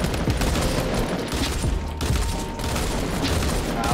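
Dense, continuous gunfire in Fortnite, a rapid crackling volley of shots that stays loud throughout with little pause, a voice faintly present.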